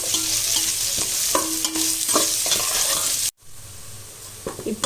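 Onions being sautéed in a pan for vegetable biryani: a loud, continuous sizzle broken by repeated scraping strokes of a spoon stirring, with a brief dropout near the end before the frying resumes.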